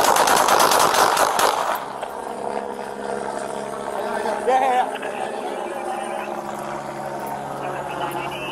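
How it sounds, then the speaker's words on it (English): A rapid burst of loud gunfire from a deputy-involved shooting in Downey, California, picked up by a deputy's body camera, crackles for about two seconds, then gives way to a lower mechanical hum with muffled voices. "a deputy-involved shooting occurred"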